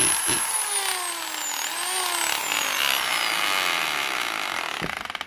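A multi-function power tool runs steadily in hammer mode, a loud continuous whine with a pitch dip midway and rapid pulsing toward the end.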